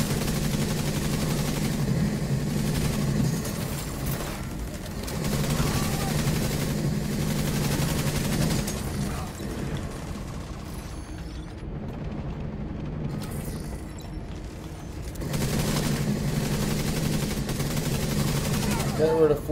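Game gunfire from the player's weapon in a looter-shooter plays as sustained rapid automatic bursts with mechanical clatter, loud and continuous across most of the stretch, dipping briefly in the middle before resuming.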